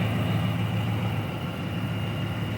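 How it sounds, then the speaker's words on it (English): A car engine running on oil that holds about six quarts idles with a steady, low rumble and a constant hum, unbroken and fairly close. "engine runs right"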